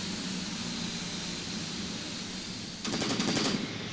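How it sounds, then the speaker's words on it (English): A short rapid burst of video game machine-gun fire from a WWII tactics game rattles over a constant wash of background noise, somewhat distant. "Oh, more gunfire."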